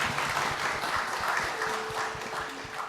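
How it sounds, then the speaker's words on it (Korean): A church congregation at a Korean Sunday worship service claps together in a sustained burst of applause, dense and even throughout, with faint voices underneath. "하나님께 영광의 박수 올려드리겠습니다."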